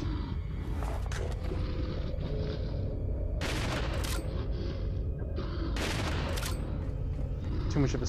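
Bursts of gunfire ring out in Resident Evil 4 VR, clustered volleys of sharp shots separated by brief pauses, loud and close, with a faint voice underneath at times.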